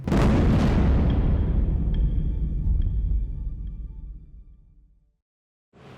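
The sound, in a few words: explosion sound effect, blowing up the Maharatu factory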